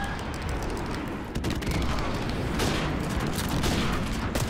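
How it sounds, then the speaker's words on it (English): Airstrike explosions in a video game form a dense, unbroken barrage of booms and gunfire-like blasts, loud and close throughout, with no voices. "Friendly airstrike on the way."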